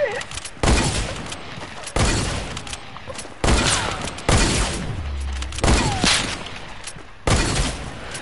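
Rapid bursts of video game gunfire crack out in repeated loud volleys, roughly every second or two, with a low boom underneath at one point and no talking over the shots.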